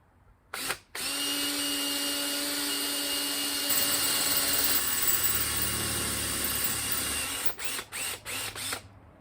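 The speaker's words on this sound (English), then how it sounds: "smaller drill bit and open it up" A power drill whirs steadily for several seconds, its pitch shifting as a small bit bites into a car part, then stops in a few short bursts.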